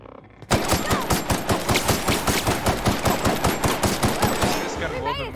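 Rapid automatic gunfire from a weapon in the video game The Outer Worlds, a long, loud burst of evenly spaced shots at a steady fast rhythm, starting abruptly and ending with a short mechanical tail.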